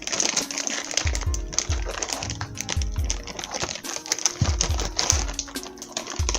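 Scissors snipping vegetables for a stew, a quick run of small crisp cuts and clicks close by, with light crinkling in the background and no talk.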